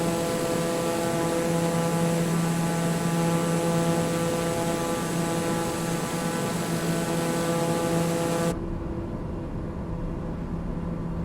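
Aircraft engine in Microsoft Flight Simulator 2020 droning steadily with a strong whine and rumble, loud and constant, then abruptly dropping in brightness near the end as the tone shifts.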